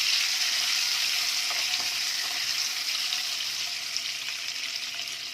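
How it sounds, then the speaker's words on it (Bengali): Eggs frying in oil for a Bengali-style egg curry give a steady, dense hiss and sizzle that runs unbroken and fairly loud throughout, with faint crackles scattered across it. "ডিমগুলোকে এখন ভালো করে একটু ভেজে নিচ্ছি।"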